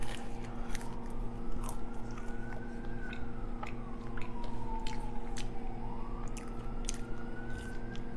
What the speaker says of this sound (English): So here we have garlic aioli fries.